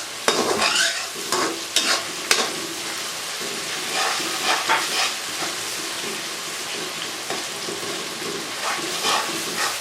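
Steady stirring and scraping as tomatoes are mixed into frying onions in a karahi over a continuous sizzle, with a few sharper clanks near the start; no talking.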